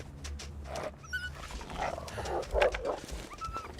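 A wolf in The Long Dark survival game growls in low, rough snarls near Desolation Point, close and fairly loud, rising and falling across several seconds with no one speaking.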